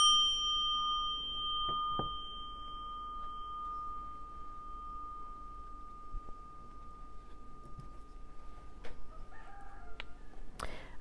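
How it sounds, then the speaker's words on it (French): A rooster crows faintly in the distance near the end, after a singing bowl's ringing tone fades out at the start; quiet background otherwise, no talking. "Ah, il y a le coq qui chante."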